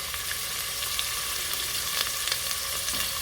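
Sausages sautéing in a tablespoon of vegetable oil in a pot for a seafood boil, giving a steady, close, even sizzle with faint crackles and pops and no voices.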